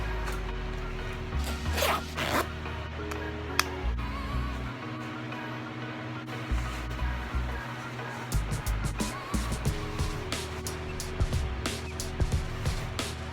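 Zipper on a reversible Tommy Hilfiger jacket being handled, repeated short zips and rubbing of fabric close up, with faint background hum and no speech.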